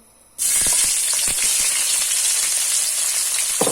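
White onion hits hot oil left over from frying fish, bursting into a loud sudden sizzle that holds steady with scattered pops, no voices.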